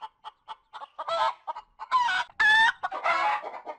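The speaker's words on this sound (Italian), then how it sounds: "tra i fali del gioco abbiamo l'audio proprio dei polli" Chickens from deleted audio in the video game Crash Bash cluck in short rhythmic bursts, broken by a few louder squawking, crow-like calls, clear and isolated.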